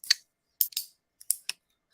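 A pocket knife being flipped and shuffled makes a series of sharp, crisp metallic clicks, four or five snaps in quick irregular succession with silence between them, close and clear.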